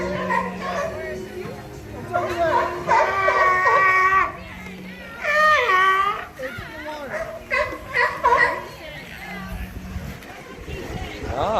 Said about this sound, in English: Boy, he's barking up a storm over there.